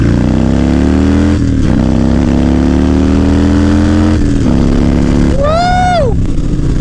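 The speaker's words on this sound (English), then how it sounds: "My first ride on my FXR after it came back from the dead." Harley-Davidson FXR motorcycle running close by, a loud deep engine drone that climbs steadily through gear changes, then a sharp throttle blip rising and falling near the end.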